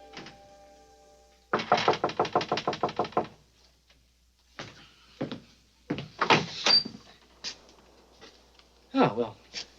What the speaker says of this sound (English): You'll finally learn how to knock.